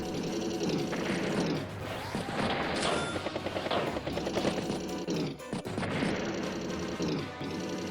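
Unit attacks in Advance Wars by Web, a mech striking a recon and a battlecopter finishing it, heard as loud, continuous crashing bursts and rapid mechanical gunfire with short rattling hits throughout.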